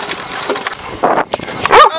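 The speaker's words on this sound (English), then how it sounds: "sorry for the barking sound" Dogs bark and whimper in short, scattered bursts at close range, with sharp yelps breaking through.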